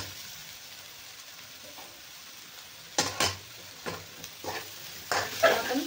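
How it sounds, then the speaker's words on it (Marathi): Bitter gourd being stir-fried with masala in a pan, with a faint sizzle in the background and then several sharp scraping stirs of a spatula in quick bursts, close and fairly loud. "चांगलं ह्याला परतून घ्यायचंय, मिक्स करून घ्यायचं आपलं सगळं."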